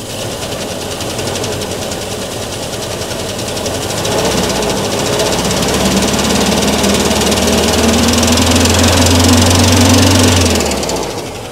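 A 1973 Citroën DS 23 IE Prestige in original condition runs roughly on three cylinders, its engine a loud, steady uneven drone with a rapid ticking clatter, rising in intensity midway before cutting off near the end, with no talk.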